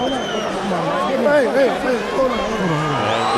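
A boxing arena crowd cheers and chatters with scattered whoops for Laila Ali, a dense, steady roar of many voices filling the whole moment.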